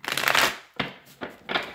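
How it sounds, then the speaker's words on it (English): A tarot deck gets shuffled up close in several quick bursts of riffling, flapping card noise, a long burst followed by three shorter ones separated by brief pauses. "One more shuffle for Scorpio."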